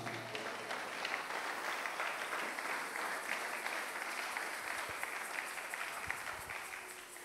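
Congregation in a church applauding steadily, a dense continuous wash of clapping from many hands that holds at an even level throughout.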